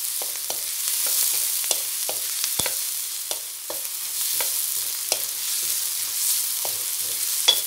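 Shrimp sizzling in a hot pan while cooking pansit, a steady close hiss of frying with scattered light pops and stirring clicks throughout.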